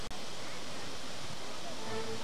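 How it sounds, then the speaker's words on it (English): A roaring, gushing waterfall beside the Flam Railway in Norway, a loud continuous broadband rush of falling water close by, steady throughout with no other distinct sounds. "Here we have a roaring, gushing waterfall."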